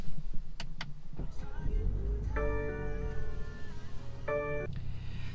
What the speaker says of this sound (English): So let's start this up. I'm gonna push the button right there.